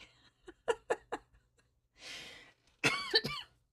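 A short series of sharp coughs, followed by a breathy hiss and a final burst of raspy, throaty coughing, fairly close and otherwise quiet.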